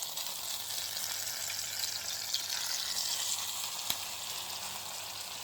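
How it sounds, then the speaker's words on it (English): Feta sizzling and simmering in a pan during a cooking class, a steady close crackling hiss with bubbling that holds an even level throughout, with one brief sharper pop near the end and no talking. "Listen to that sizzle."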